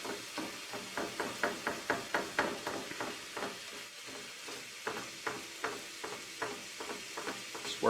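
A spatula scraping and tearing through ground venison in a pan with onions and mushrooms, giving steady rhythmic knocks against the pan bottom, fairly faint, with a light sizzle underneath.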